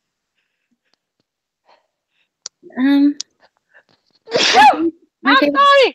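Someone sneezes sharply twice, close and loud, after a small breathy catch, with a quiet spoken apology between.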